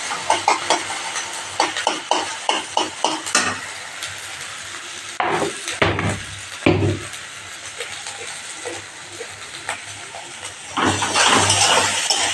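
Shrimp paste fries in a pan, with sharp bursts of spatula scraping and stirring over a soft sizzle, a few louder clatters midway and a surge of hissing near the end.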